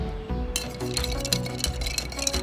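Ice is stirred in a cocktail shaker, giving a quick series of bright clinks and rattles over soft background music.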